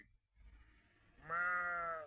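A sheep gives one loud, close, wavering bleat lasting about a second after a short quiet rumble, heard alone.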